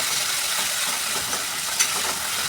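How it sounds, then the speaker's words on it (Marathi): Capsicum frying in a pan over a high gas flame gives a steady, close sizzling hiss with a brief click partway through, and no voices. "शिमला मिरची एक दोन मिनटं आपल्याला मोठ्या गॅसवर जरा भाजून घ्यायची"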